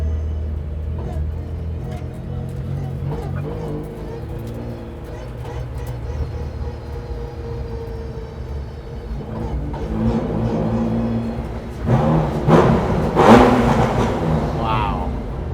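A modified 600hp 1971 Datsun 240Z weighing 2400 lbs, worn from a day of racing at Z-Con, rumbles at idle before its engine rises into loud, rough revs near the end, with people talking over it.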